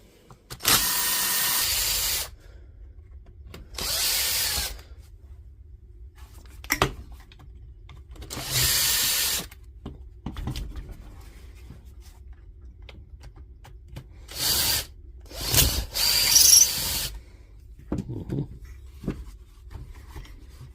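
A brushed DeWalt angle grinder under repair runs in short bursts, each a loud high whine lasting one to two seconds, separated by quiet gaps and small handling knocks, with no talk.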